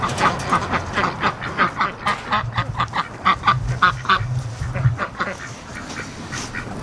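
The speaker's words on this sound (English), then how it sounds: "I'll let the rest of the ducks out here." Free range breeding ducks quacking in a rapid run of loud, close calls that overlap and then trail off, heard with no talking.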